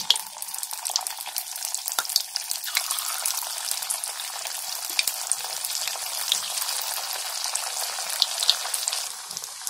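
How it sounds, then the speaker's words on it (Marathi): Snack pieces dropped two or three at a time into hot oil, giving a dense, steady bubbling sizzle that stays even and close throughout, with no talking. "तेल आता मस्त तापलंय. आता त्याच्यामध्ये आहे ना हे 2-2, 3-3 टाकायचे."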